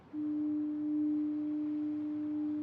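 A single deep foghorn blast sounds as one steady, unwavering tone, held for a couple of seconds against a quiet background.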